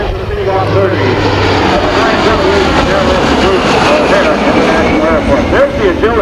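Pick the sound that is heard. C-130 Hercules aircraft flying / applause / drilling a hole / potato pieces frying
C-130 Hercules aircraft flying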